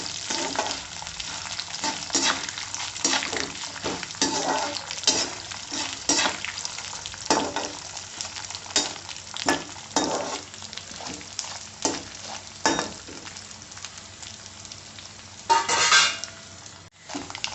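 Chana dal and roasted peanuts sizzle in hot oil as a tempering for Tamil Nadu style puliyodarai tamarind rice, a steady crackling fry with repeated spoon scrapes and metal clinks from stirring in the pan.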